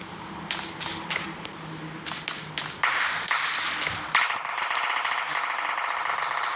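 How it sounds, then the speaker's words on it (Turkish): Sharp, scattered shots crack out irregularly, some distant and some nearer, followed by a steady electronic hum with rapid ticking: gunfire in PUBG Mobile on the Livik map. "Silah sesi geliyor."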